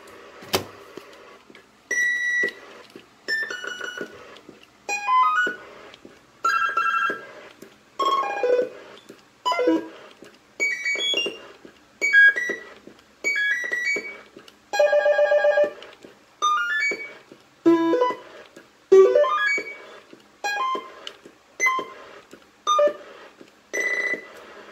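Repeated short electronic chirps and tonal bursts from a Cobra 19DX IV CB radio roger beep sound in a regular pattern over a quiet background with no talking.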